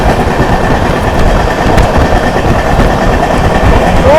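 An Amrit Bharat Express train runs through a junction with a loud, steady, close rumble and rolling wheel noise that holds without a break.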